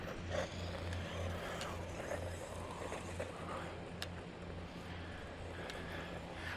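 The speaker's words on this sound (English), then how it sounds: "Apologize about the lawnmower." A lawnmower engine drones steadily in the background, a continuous low hum with broadband roar that never lets up, fairly faint and even throughout.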